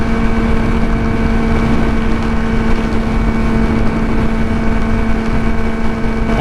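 A Yamaha R6 or Ninja 400 sport motorcycle on a night highway run gives a loud, steady engine drone with a constant pitch and no pauses throughout.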